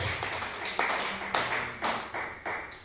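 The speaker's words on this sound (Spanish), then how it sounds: "Aplauda fuerte al Señor." A church congregation clapping loudly in unison, sharp rhythmic claps in a steady beat with roomy reverberation.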